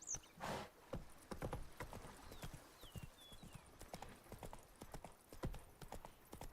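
In Witcher 3, a horse's hooves clip-clop in a steady trotting rhythm, quiet and close, with faint background ambience.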